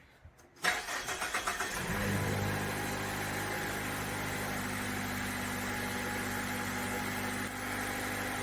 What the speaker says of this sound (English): then he's gonna start it up and let it run. It said it might stumble a little bit in the beginning,